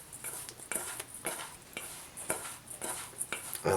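Brown sugar and cinnamon crumb mix being stirred in a bowl, with soft repeated scraping and gritty swishes in an irregular rhythm, quiet and close, with no talking.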